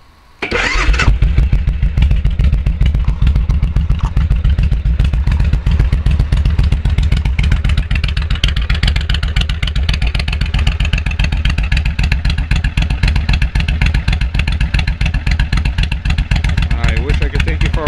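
A 2002 Suzuki VL1500LC motorcycle with Cobra pipes fires up in the first second, then settles into a loud, close, deep, rumbling idle that stays steady throughout.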